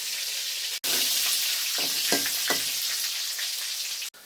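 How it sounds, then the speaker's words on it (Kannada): Crushed garlic fries in hot oil for a fish curry, a dense, steady sizzle close up, with a few soft stirring knocks in the middle and brief cuts at the start and end. "ಜಜ್ಜಿಟ್ಕೊಂಡಿರೋ ಬೆಳ್ಳುಳ್ಳಿ ಹಾಕಿದ್ರು ನೀವು ಸೌಂಡಲ್ಲಿ ಫೀಲ್ ಮಾಡ್ಬೋದು ಬೆಳ್ಳುಳ್ಳಿ ಉರಿತಾ ಇದೆ"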